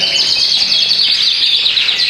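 Yorkshire canaries chirp and trill in a breeding aviary, a dense, continuous chorus of high tweets from several birds close by, steady and unbroken throughout.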